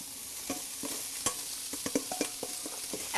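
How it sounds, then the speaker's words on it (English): A wooden spoon stirring shredded collard greens and kale in a stainless pot, giving a run of soft scrapes and clicks at an irregular rhythm over a faint sizzle, close but fairly quiet, with no speech. "And I'm stirring, and I'm using a great wooden spoon a friend brought me from Israel."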